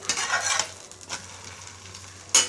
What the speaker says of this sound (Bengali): একটু ঘি দিয়ে পরোটা ভেজে খেয়ে দেখি কেমন লাগে